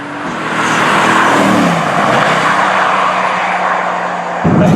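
A Mercedes-AMG GT S engine roars at full throttle, a loud sustained rising drone with a hard edge from inside the car, ending in a brief thump near the end, with no talking.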